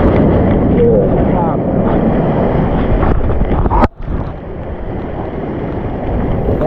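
Rough, churning sea waves at Vengurla on the Konkan coast roar continuously as a loud, broadband wash, heavy with wind buffeting, with a brief dropout before the surf noise resumes.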